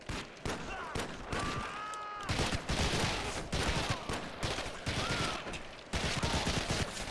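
Gunfire in Medal of Honor Heroes on PSP comes as rapid, loud bursts of shots in repeated volleys. A short break falls near the start, and a few brief vocal sounds are mixed in.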